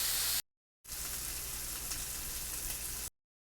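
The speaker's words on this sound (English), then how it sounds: "while our bacon is cooking" Strips of bacon sizzle and fry steadily in a pan, a close, even crackling hiss broken by a couple of brief silent gaps.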